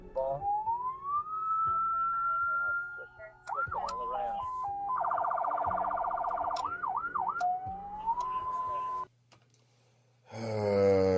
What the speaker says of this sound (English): finds it's outfitted with emergency siren equipment